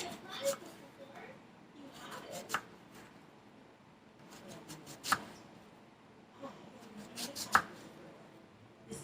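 A knife chops an onion into strips on a cutting board in a series of irregular, close thuds, with quiet handling sounds between cuts.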